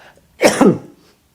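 A single short, harsh cough, close and fairly loud, in an otherwise quiet room.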